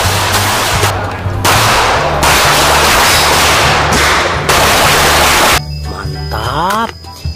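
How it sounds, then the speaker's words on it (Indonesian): A dirty toy pistol labeled super gun fires its electronic sound effects. Loud rapid crackling bursts form a machine-gun-like rattle, ending with a short whistling, sweeping electronic tone. "ini super gun teman-teman,"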